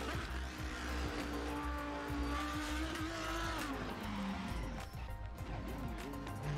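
An RSS Lanzo V10 in the Assetto Corsa racing sim oversteers, its engine note rising and falling with wavering tire squeal and scrubbing. The sound is continuous and close, with no talking.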